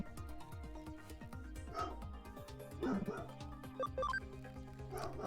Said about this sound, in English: Bark, bark, bark!